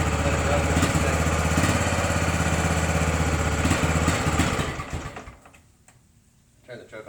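A Kawasaki Bayou 300 ATV engine runs steadily with its choke off, a loud, close mechanical drone that drops away toward the end, where it falls quiet before a brief rise.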